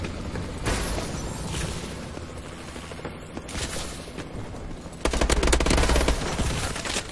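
Machine gun turret in Call of Duty: Advanced Warfare firing continuous rapid bursts, with dense automatic fire and booming impacts. It grows louder and harsher toward the end, over a busy battlefield backdrop.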